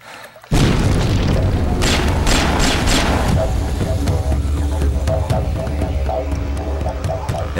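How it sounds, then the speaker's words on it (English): Twin double-barrel shotguns firing in the video game Fear Effect, a loud sustained barrage of booming blasts that starts abruptly and rolls on densely throughout. "the two double barrel shotguns"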